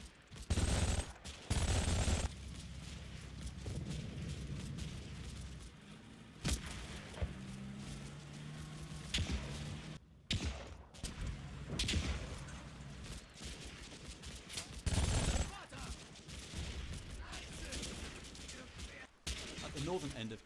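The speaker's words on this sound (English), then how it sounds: "As they dismount, contact is made with a machine gun team behind KT1." Machine gun fire in a battle in the World War II strategy game Combat Mission Fortress Italy, with heavy bursts and single loud reports breaking through a rumbling combat backdrop, some near and some farther off.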